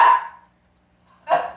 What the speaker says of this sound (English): Oh, you're gonna start barking?